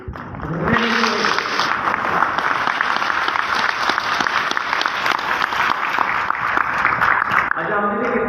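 Loud, sustained clapping from a large audience at a regional conference in Goa fills about seven seconds, with a brief voice just before it starts and again as it fades.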